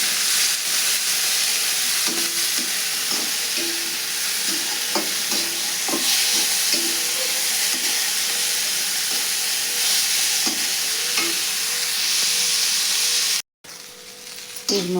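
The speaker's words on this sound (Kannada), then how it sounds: "ಅದು ಹುರಿಬೇಕು ನೋಡ್ರಿ ಚೆಂದಾಗಿ." Cluster beans (chavalikai) stir-fry in a hot pan with a steady sizzle and hiss, while a spatula scrapes and taps in an irregular rhythm, close and fairly loud, with a brief dropout near the end.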